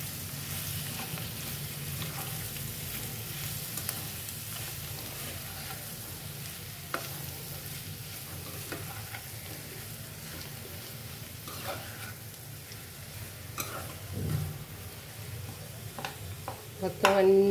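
Aloo kurma fries in a pan with salt and spices, a steady soft sizzle running throughout while a spoon stirs now and then with faint scraping clicks.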